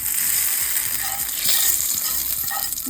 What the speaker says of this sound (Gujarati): બધો વઘાર ચટણી કરી દેવાનો.